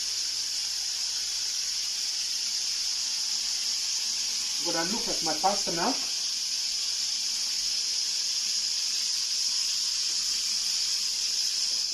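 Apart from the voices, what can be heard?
chicken sizzling in a pan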